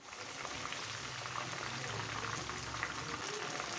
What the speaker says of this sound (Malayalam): ഇനിയിപ്പോൾ നമുക്കത് വറുക്കാനിടാം.